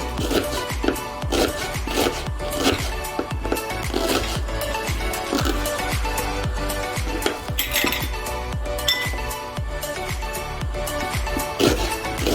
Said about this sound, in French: Voilà, je suis en train de couper les ciboulettes.